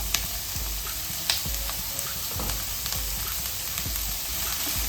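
Curry leaves fry in hot oil in a pan as they are stirred, giving a dense, steady crackling sizzle with scattered spatula taps and scrapes, close and continuous, with no voices.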